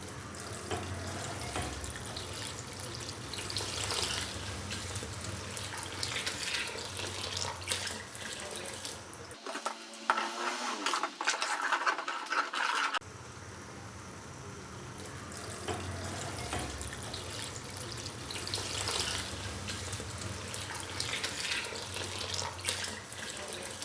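About one litre of water pours in a steady stream into a cooking pot, a continuous rushing splash close by that briefly changes tone midway before flowing on.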